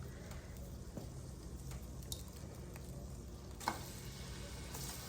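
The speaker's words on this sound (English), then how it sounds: "Hear that sizzling?" Soft, steady sizzling of shrimp frying in a hot pan, with occasional faint pops and crackles; no voices.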